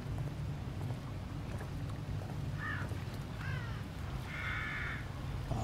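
Crows caw several times at mid distance in the horror video game The Evil Within, short hoarse calls over a constant rainy, rumbling ambient bed.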